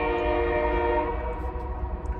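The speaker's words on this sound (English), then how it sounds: "There goes the train again." A train passes with its horn sounding: a steady, loud, sustained horn tone over a heavy low rumble, fading slightly as the train moves on.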